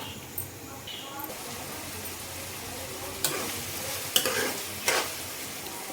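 Onions and green chillies fry in hot oil for a mutton curry, a soft, quiet sizzle with a few sharp clinks and scrapes of a spoon against the pan.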